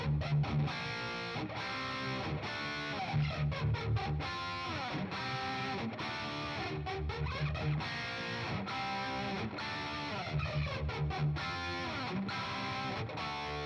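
Electric guitar hard-panned through an MXR jet-engine style flanger with plate reverb, playing distorted, dense riffs for about fourteen seconds. Sweeping, whooshing comb tones run steadily through the loud, continuous playing, with no voices.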